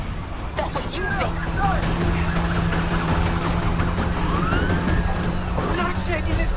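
Police sirens wail and yelp during a night pursuit in the street-racing game NFS Heat, mixed with a droning car engine. Radio chatter and voices talk over it throughout.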